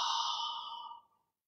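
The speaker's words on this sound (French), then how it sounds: "Inspire, souffle et développe." A single long, deep exhale during a vinyasa yoga session, breathy and close, fading out smoothly into silence.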